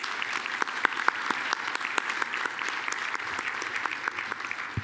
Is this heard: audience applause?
yes